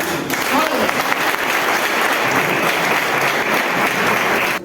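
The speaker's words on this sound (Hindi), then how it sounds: "मैं चाहूंगा महिला के लिए जोरदार ताली" Loud applause from the audience for the women at an RCM business meeting in Gopiganj, dense clapping held at an even level, with voices mixed underneath, stopping sharply at the end.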